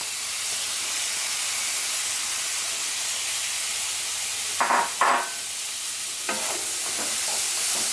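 Green peas sizzle steadily in a hot pan for a samosa filling, a dense continuous hiss broken by a few brief stirring clatters near the middle and toward the end.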